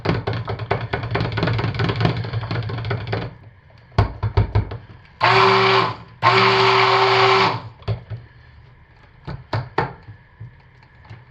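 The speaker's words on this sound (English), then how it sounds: "I'm being really cautious with stick blending this." A stick blender mixing citrus-scented cold process soap batter in a container: dense knocking and clattering at first, then two loud, steady motor bursts of about a second each, with scattered taps around them.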